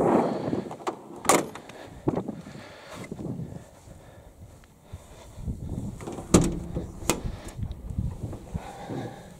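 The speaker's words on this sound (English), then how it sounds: "And we'll go round to the back and we'll open the back doors." The back doors of a self-built camper van are opened: metallic latch clicks and clunks, a couple of sharp bangs as the doors swing, and lighter rattling and handling noise in between, close by.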